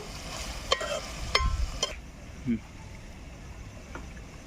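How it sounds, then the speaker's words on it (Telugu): A spoon stirs spices roasting in oil in a pan for ridge gourd chutney, with a few sharp scraping strokes early on over a steady soft sizzle that continues alone afterward. "ఇవైతే మధ్యలో మాడిపోకుండా ఒకసారి అయితే కలుపుకుందామండి"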